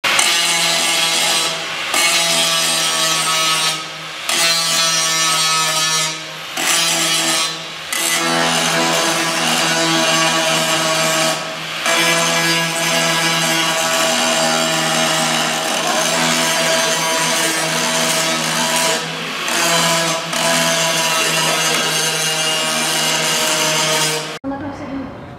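Power tool grinding metal clean in a welding garage, a loud whining buzz held for long stretches with several brief pauses, then cutting out near the end.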